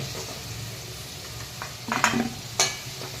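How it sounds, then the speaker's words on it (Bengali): Potatoes frying in hot oil in a pan, with a steady low sizzle and a few louder scraping clatters as pieces are lifted out one by one, close by and with no talk. "আলু ভাজা হয়ে গেছে আলুগুলো এখন তুলে নেব এক এক করে"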